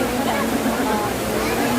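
Waterfall at Villa Escudero, a dense, steady roar of falling water close by, loud and unbroken, with voices talking over it.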